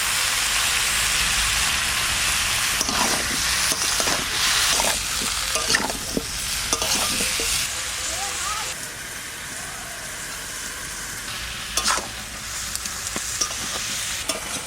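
Tender pumpkin with salt and turmeric sautéing in a pan after fish frying, a dense, loud, steady sizzle with scattered spatula scrapes and knocks throughout.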